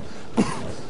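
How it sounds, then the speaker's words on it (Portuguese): A single short cough bursts out of a quiet background, close and fairly brief. "E você, por que tá tossindo tanto?"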